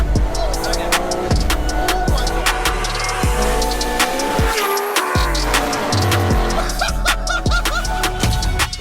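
Nissan Skyline R34 GTR with an 800 bhp 2.8-litre single-turbo stroker engine at full throttle, loud and close, with rapid gear shifts and cuts in the roar throughout.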